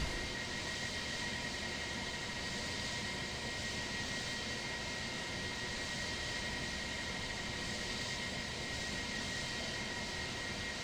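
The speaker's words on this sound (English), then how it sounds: "I've just finished pushing back to start taxiing now." Steady, loud jet engine roar of an airliner pushing back and taxiing in a flight simulator game, a continuous even hum with no breaks and no talking.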